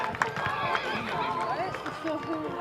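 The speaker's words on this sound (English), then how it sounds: "The pack horse is loose once again." At a mountain rodeo in Valemount, British Columbia, a loose pack horse whinnies and neighs amid running hoofbeats and crowd noise, with an announcer talking over it.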